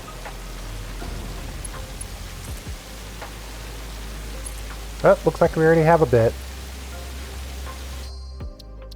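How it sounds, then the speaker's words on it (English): Steady, fairly loud rain hiss in the video game Satisfactory, continuous across the whole stretch, with a voice speaking briefly partway through before the sound cuts off abruptly near the end. "It also seems like the rain is extremely loud."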